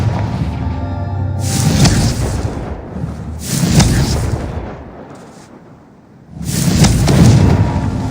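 Explosive Confringo spell blasts in the Hogwarts Legacy video game, three loud booming bursts with rumbling tails separated by short lulls.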